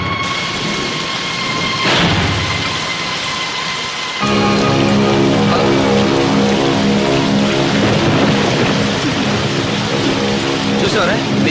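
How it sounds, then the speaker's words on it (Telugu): Heavy rain pours steadily in a Telugu movie scene, with a low thunder rumble early on. Music and voices play over the downpour. "వర్షం వస్తుంది."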